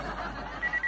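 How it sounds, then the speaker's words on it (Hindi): A telephone rings in a sitcom scene, a steady electronic trill that pulses in short bursts near the end and sounds fairly close, with no talk over it. "ओ गॉड, फोन कहाँ बज रहा है?"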